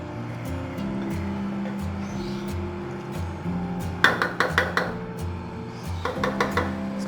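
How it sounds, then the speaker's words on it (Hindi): Metal spoon scraping and clinking against a cooking pot while rice pulao with potatoes and peas is gently stirred, two bursts of rapid clatter over a low steady stove hum. "अच्छे तरीके से हिला के आराम से, ताकि चावल टूटे नहीं"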